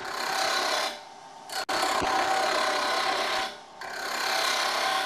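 A tool cutting spindle stock on a wood lathe gives a steady, loud, close rasping hiss that drops away twice for a moment before the cut resumes.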